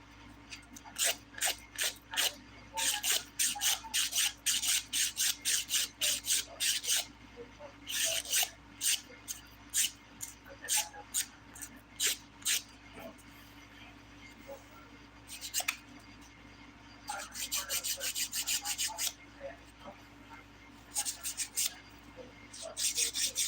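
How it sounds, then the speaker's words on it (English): Nail file rasping across Polygel nails, bursts of quick scratchy strokes repeated in uneven runs, close and fairly crisp, with brief pauses between passes. "You will get a lot of dust when you're filing Polygel, but it files easily."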